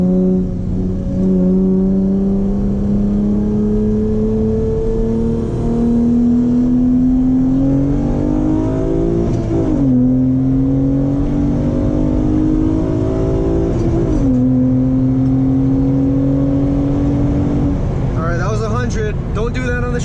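A Honda Accord V6 coupe with a manifold spacer and ported manifold runners accelerates hard in second gear. Its loud engine note climbs steadily in pitch through repeated pulls, with brief dips between them.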